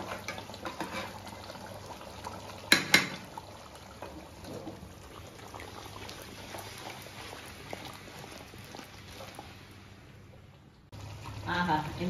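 A fish curry with mango simmers in a pot, its quiet bubbling and liquid burble running steadily, broken by a brief louder clatter early on and a short drop to near silence before the bubbling returns.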